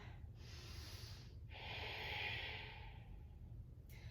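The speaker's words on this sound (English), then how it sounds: "coming back to that Ujjayi pranayama if you lost connection with it, so that gentle snore sound" Two long, soft ujjayi breaths during yoga, with a hissing, throaty rasp like a gentle snore, steady and close, the second one louder and fuller.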